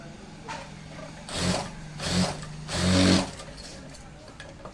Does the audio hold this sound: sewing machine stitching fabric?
yes